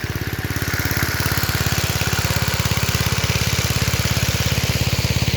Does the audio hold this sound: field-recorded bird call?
no